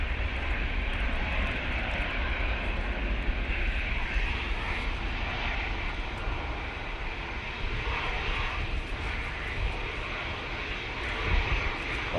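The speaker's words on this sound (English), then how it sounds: "EasyJet A321 Neo down the roll." An EasyJet Airbus A321neo rolls down the runway for takeoff at Manchester Airport on a windy day, its engines roaring steadily and broadly across the whole span with no voices over it.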